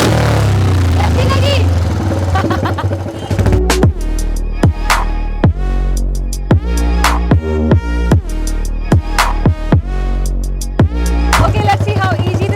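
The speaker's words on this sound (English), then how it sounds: "It's shocking how well this bike turns, how well this bike rides" A Royal Enfield chopper motorcycle being ridden, with its engine droning loud and close and revving up and down repeatedly in short surges.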